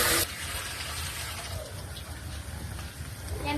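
Water is poured into a cooking pot, a loud splashing gush that starts abruptly and runs continuously for several seconds with a faint voice underneath.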